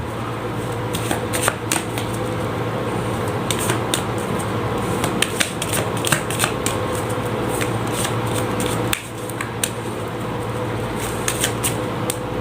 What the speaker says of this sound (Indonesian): Saya shuffle terlebih dahulu